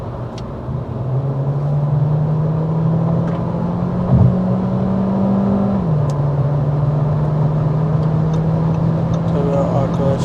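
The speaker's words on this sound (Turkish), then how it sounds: "Şimdi direkt kick down yapacağım." Audi A3 35 TFSI hatchback with a 150 HP engine under kick-down acceleration, a steady droning engine tone that climbs slowly, dips briefly at a gear change and continues, heard from inside the cabin with road noise.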